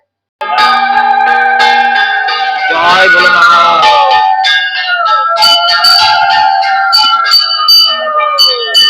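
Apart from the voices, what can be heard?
temple bell ringing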